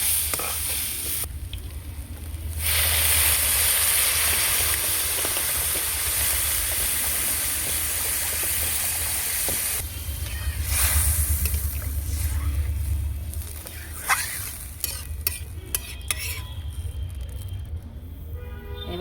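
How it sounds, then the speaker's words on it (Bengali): Water hits a hot pot of fried rice and lentils for khichuri and bursts into a loud steaming hiss and sizzle, followed by stirring scrapes and clatter against the pot. "এবার পরিমাণ মতো জল দিয়ে দেবো"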